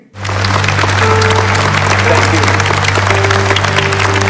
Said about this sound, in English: all his students are clapping at him